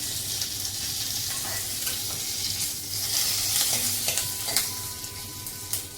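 Curry leaves sizzle and crackle steadily in hot oil during tempering for a yogurt kadhi, with occasional sharper pops over a continuous frying hiss and no talking.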